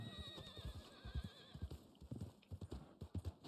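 Horse hooves clip-clop at a steady walking rhythm in the Red Dead Online video game, close and fairly quiet, with a brief whinny near the start.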